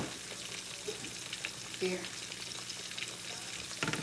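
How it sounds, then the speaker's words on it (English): Fish sizzles and crackles steadily in a hot frying pan on a stovetop, with a few clinks of stirring and a brief spoken word over the frying. "Our fish is frying."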